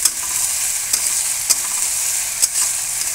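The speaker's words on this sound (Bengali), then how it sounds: "এটা আমরা বেশ কিছুক্ষণ ধরে ভাজবো।" Meat frying in mustard oil, a close continuous sizzle broken by a few sharp stirring scrapes of a utensil in the pan, with no talk.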